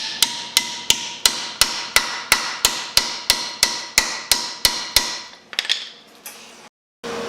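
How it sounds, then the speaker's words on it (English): Steel reinforcement plates are hammered shut on a Jeep TJ Wrangler steering box during rust repair: about fourteen loud, evenly spaced metallic strikes ringing close by, then a few quicker clatters and near silence. "anywhere that there's a gap, I'm going to take my hammer and try to make sure I close it up"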